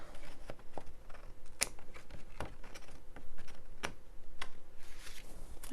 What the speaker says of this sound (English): Okay, I'm going to snip this off.